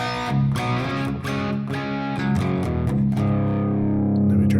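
Recorded electric guitar track played with the tube gain plugins switched off, a dense, continuous riff with repeated picked attacks and sustained chords, steady and fairly loud with no talking.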